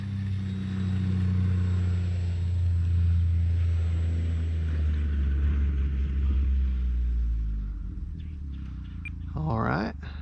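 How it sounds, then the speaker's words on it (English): A Parkzone Sport Cub S2 RC plane's electric motor running steadily at close range during a ground range test, a continuous low drone with a brief higher whine near the end. "motor on"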